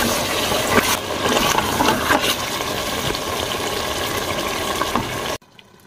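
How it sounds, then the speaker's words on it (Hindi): Steady, dense sizzling of beef frying in its own fat in a pan, loud and continuous with crackling bursts, cutting off abruptly near the end. "ये गोश्त अपने ही तेल में पक रहा है"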